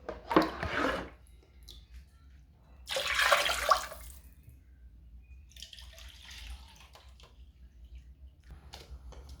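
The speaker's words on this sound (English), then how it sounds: "Now I'm going to add water to my stock just so it gets ready" Water poured into a pot of chicken stock for a chicken rice dish, two loud splashing bursts near the start, then a quieter trickle and faint drips.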